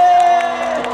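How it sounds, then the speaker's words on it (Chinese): Crowd at an outdoor Christmas concert event cheering and whooping loudly, a brief burst of mixed shouts over sustained amplified tones. "给我们的镇长来的热情的掌声加尖叫声一下"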